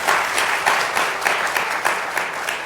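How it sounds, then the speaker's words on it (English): An audience at an HBCU 2019 keynote claps steadily for a few seconds, giving a dense, even round of applause in a large room. "So let's give them a round of applause,"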